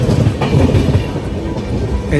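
A train rumbles past with a steady, dense roar heard from on board or nearby. The sound is loud and continuous, with a faint rhythmic clatter.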